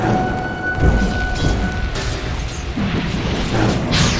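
Rolling Thunder, an ability in the video game Dota 2, lets out a crackling, rain-like rumble with several deep booms. The sound stays loud and dense for the whole stretch.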